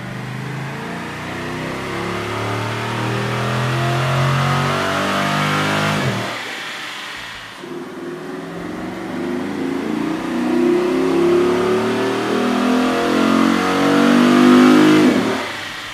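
A car engine fitted with a K&N 71-2545 performance intake revs up and down repeatedly on a dyno, rising to loud roaring peaks with a brief drop near the middle; no one speaks.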